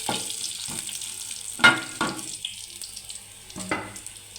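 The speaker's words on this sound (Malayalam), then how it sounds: "ശരി, കടുക് വറുക്കാനിട്ടേക്കുന്ന ഇത് ചുമന്നിട്ടുണ്ട്" Mustard seeds, dried red chillies and curry leaves frying in hot oil for a Kerala tomato curry, a steady low sizzle broken by a few sharp pops and spits, close, no talking.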